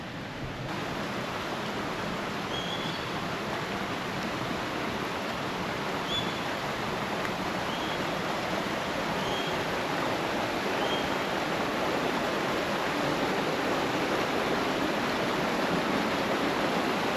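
A small, pretty waterfall near a coastal camp gives a continuous, even rushing roar that holds steady for the whole stretch, with no voices.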